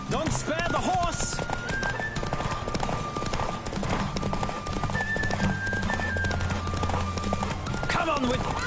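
A horse gallops at full speed in a race in the video game Witcher 3, with rapid rhythmic hoofbeats and game music layered over the run.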